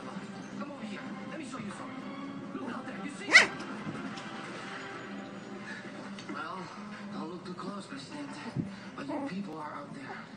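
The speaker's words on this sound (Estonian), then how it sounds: "Ossa koeramunad, kuulake selle lontu häält." A black puppy wrestles with an ice cube on a white surface, whimpering and letting out small yips and one sharp bark, fairly close, while a voice talks over much of it.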